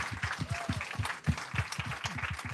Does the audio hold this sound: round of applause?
yes